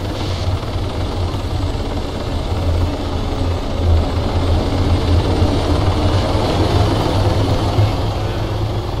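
A loud, steady helicopter drone in a video game with a deep rotor rumble and engine whine, continuous throughout with no one speaking.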